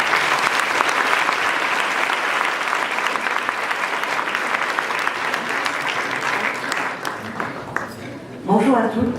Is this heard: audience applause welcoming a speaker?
yes